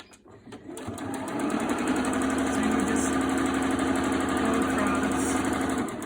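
A sewing machine stitches a roughly 3/8 inch hem on a pleated fabric face mask, starting after a brief pause and then running in a steady, loud, rapid mechanical whir with no voices.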